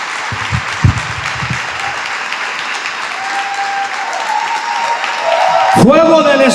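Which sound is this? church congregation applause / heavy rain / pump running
church congregation applause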